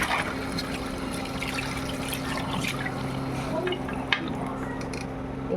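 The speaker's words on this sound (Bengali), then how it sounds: "তার জন্য আমি ইলিশ মাছগুলো ধুয়ে নেব।" Hilsa fish pieces are washed in water, giving a continuous close splashing and trickling with occasional small knocks, steady throughout.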